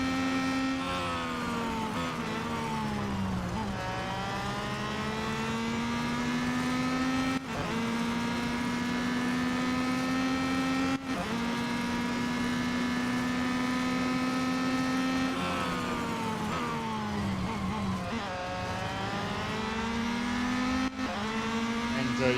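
Race cars lapping a circuit in Real Racing 3, their engines droning loud and steady with rising and falling pitch through gear changes, continuous and alone with no talk.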